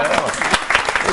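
Lively audience applause at a Mackenzie Voluntário stage event, dense overlapping claps close by with a voice or cheer mixed in.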